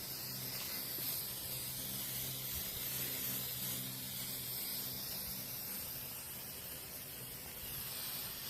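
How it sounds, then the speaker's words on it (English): Clear polyurethane hisses steadily from a spray can onto a white-painted wooden child's book box, a continuous soft close-up spray with no voices. "I'm just going to spray a poly on it"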